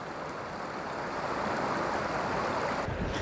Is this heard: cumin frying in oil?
no